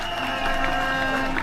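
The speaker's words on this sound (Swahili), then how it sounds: "mpigieni makofi tafadhali" An audience applauds an honoured official at a health conference in Kenya, a brief, steady patter of clapping over a faint hum of the hall.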